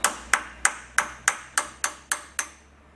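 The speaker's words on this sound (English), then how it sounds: "I'm just going to take a hammer and a punch" A hammer drives a punch against the cap of a car lift's hydraulic cylinder, giving nine evenly spaced, ringing metallic pings. Each strike is close and loud with a short decay, and no one talks.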